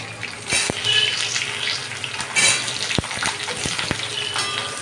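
Cut potatoes tossed into hot oil for a chicken curry crackle and sizzle loudly and steadily, punctuated by several sharp clatters of a utensil against the pan, with no voices.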